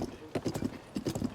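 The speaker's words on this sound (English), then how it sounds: "I'm riding Tears of the Kingdom's biggest horse" Horse hooves clip-clop in The Legend of Zelda: Tears of the Kingdom as the player rides the game's biggest horse, a quick run of close, loud hoofbeats in two bursts.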